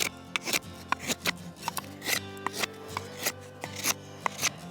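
A TOPS HOG 4.5 knife chops into wood with sharp, evenly spaced strikes, about two per second, each a crisp thwack followed by a short scrape, close and loud without talk.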